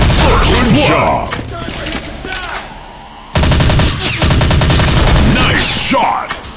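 Gunfire in an Android army commando shooting game, with dense bursts of rapid shots that pause briefly and then resume strongly, loud and close, mixed with mechanical clatter and game sound.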